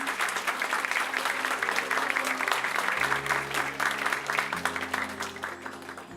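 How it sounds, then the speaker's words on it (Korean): An audience at a Korean peace forum's eve event claps to welcome a bishop, a dense, even applause filling the hall from start to finish, with low sustained tones running underneath. "큰 박수로 환영해 주십시오."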